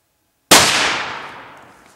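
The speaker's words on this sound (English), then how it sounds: "Take the safety off and shoot him." A single loud rifle shot rings out on a big game hunt outdoors, a sharp crack followed by a long decaying echo across open terrain.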